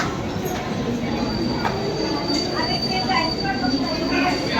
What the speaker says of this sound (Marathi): सो फायनली ट्रेन आलेली आहे